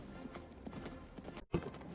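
Horse hooves clip-clop in a quick rhythm in a movie scene, a fairly faint run of hoof strikes with a brief pause before one last heavier thud.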